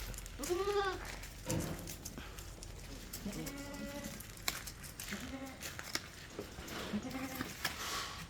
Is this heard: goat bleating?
yes